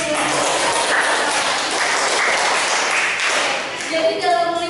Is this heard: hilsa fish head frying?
no